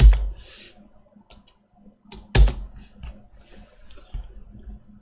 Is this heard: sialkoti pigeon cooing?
no